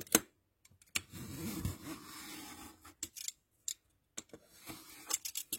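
Scissors trim the excess edge off a paper envelope in a few close, crisp snips and a longer rasping cut, with short pauses between strokes and no talking.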